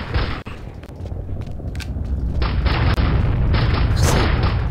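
Pistol fire in CastleMiner Z, a dense run of loud booming shots with sharp cracks, set against constant game noise and building toward the end.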